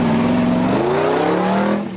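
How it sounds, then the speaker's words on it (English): A 5-litre Holden V8 in a winch truck at a 4x4 challenge revs hard and climbs steadily in pitch, a loud, close, continuous engine roar that eases off near the end. "I certainly love the sound of that V8 engine as it heads up to the back"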